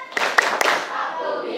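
A group claps a rhythmic spirit clap as an ice breaker, a few sharp synchronized claps in a short pattern, with voices chanting along near the end.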